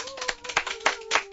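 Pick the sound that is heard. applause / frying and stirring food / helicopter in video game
applause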